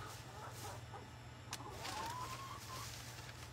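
Chickens cluck softly in a backyard coop, scattered short calls over a steady low hum, with a brief higher bird-like call rising near the middle.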